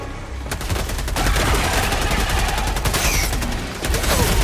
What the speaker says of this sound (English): I'm gonna shoot the eggs